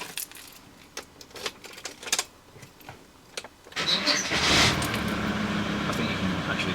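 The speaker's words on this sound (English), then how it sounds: "Okay, that's not come on yet, so turn the engine on." A car engine cranks and catches after some scattered clicks and key jangles in a car fitted with a Pelsee P12 Pro dashcam, then settles into a steady close idle rumble.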